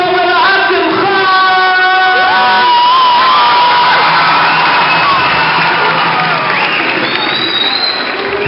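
A large crowd at an ICNA convention entertainment event erupts in loud cheering, whoops and shouts as a singer is introduced, a dense sustained roar with high-pitched yells and some applause, voices of an announcer carried over the noise.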